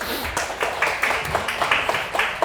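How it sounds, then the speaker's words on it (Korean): An audience claps for two children at a science talk, a brief run of scattered hand claps at moderate volume. "둘 다 너무 훌륭하게 잘 대답을 해줘서 박수 한번 쳐줄까요?"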